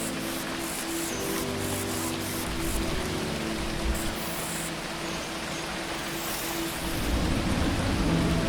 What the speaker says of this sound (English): The rain is coming from very small clouds,